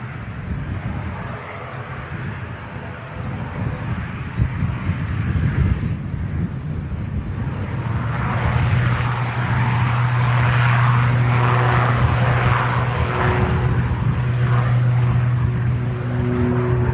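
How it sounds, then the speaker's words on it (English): An EasyJet airliner arriving from Schiphol touches down at Manchester Airport on a slightly blustery day, a broad roar of engines and wind building steadily at medium distance, with a rising engine tone in the latter half and no talk. "EasyJet touches down nice and tidy."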